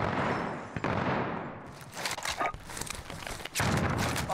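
Dense gunfire from a firefight in Call of Duty Warzone (Cold War era), with overlapping bursts and rapid shots filling the mix, loud and continuous, briefly dipping before resuming.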